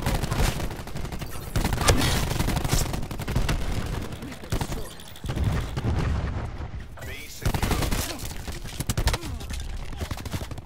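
Dense, near-constant gunfire from a Call of Duty multiplayer match, with bursts of automatic fire and heavy booming shots layered over each other, loud and busy throughout, with a voice talking at times underneath.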